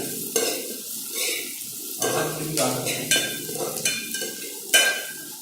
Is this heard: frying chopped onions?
yes